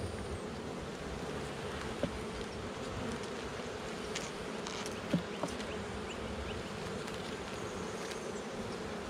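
Honey bees hum steadily inside an open hive, a dense, continuous drone with a few faint knocks and clicks of the frames being handled close by.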